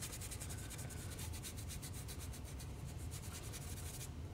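A paintbrush scrubs glaze onto a painting, giving a steady, close, continuous bristly rubbing with faint rhythmic strokes and no talk.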